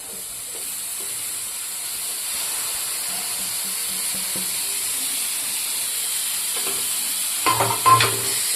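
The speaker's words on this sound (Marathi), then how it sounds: "टोमॅटोला चांगला आपण परतवूया" Tomatoes sautéing in a pan for chicken gravy make a soft, even sizzle and hiss throughout, with faint stirring scrapes and a short burst of louder clattering near the end.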